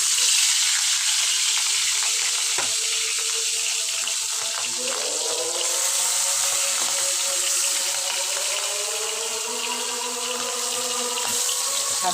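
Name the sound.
fish frying in oil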